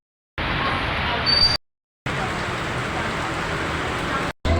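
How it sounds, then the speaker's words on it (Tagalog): Heavy rain pours steadily on a street while riding a jeep, a dense hiss broken by brief silent gaps, with no voices. "ang lakas pa nung ulan and wala akong dalang payong"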